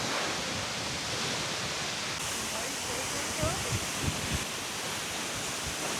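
Heavy, steady roar of a massive waterfall at the end of a remote valley hike in Alaska, wind and spray hissing continuously and loud throughout, with a few faint thumps of gusts or handling.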